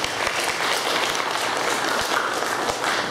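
An audience at an evening church gathering gives a loud, sustained round of applause, dense clapping that continues evenly throughout.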